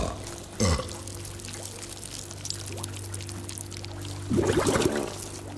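Gunk pours in two brief splashy bursts over a game show contestant, one short gush early and a longer one near the end, over a steady low background hum.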